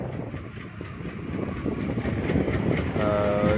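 A passenger train on the Virudhunagar–Aruppukottai line runs steadily at about 45 to 50 km/h, a continuous near rumble of wheels and carriage noise, with a brief horn-like tone rising near the end.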